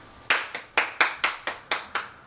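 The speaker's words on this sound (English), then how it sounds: "That's my dad clapping." Eight sharp hand claps land in an even, fairly quick rhythm, each crisp and close with a short decay, alone against a quiet background.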